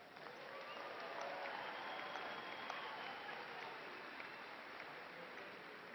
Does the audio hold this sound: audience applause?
yes